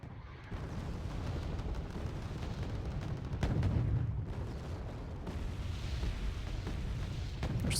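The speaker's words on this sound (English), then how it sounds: "They're still bombarding over here." An artillery bombardment rumbles in the Wargame Red Dragon video game, a continuous dense roar of distant booms and blasts that swells in the middle and carries on without a break.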